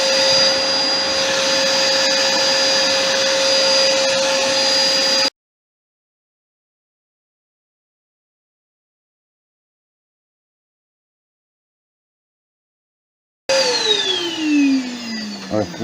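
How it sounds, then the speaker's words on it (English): Workshop dust extractor running loud and steady for about five seconds with a constant whine, then cut to silence; its sound returns at the end spinning down, pitch falling, in a wood-turning shop. "I'm going to turn the dust extractor off there for a second, because you know it's going to loud."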